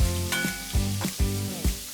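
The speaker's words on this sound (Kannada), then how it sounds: "ಒಂದು ಬಾಣಲೆಗೆ ಸ್ವಲ್ಪ ಎಣ್ಣೆ, 2 ಈರುಳ್ಳಿನ ಕಂದು ಬಣ್ಣ ಬರುವವರೆಗೂ ಹುರ್ಕೊಳ್ಳಿ" Two onions frying in a little oil in a pan, a steady close-up sizzle broken by regular stirring scrapes about every half second, loud and alone with no talk.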